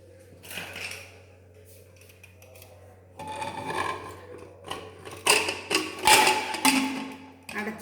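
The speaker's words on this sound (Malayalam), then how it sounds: "കുക്കർ അടച്ചു വയ്ക്കണം." A pressure cooker lid is fitted and locked over turmeric-and-salt seasoned food in a home kitchen, giving a series of metallic clicks, scrapes and clunks that grow louder and sharper toward the end, with no talking.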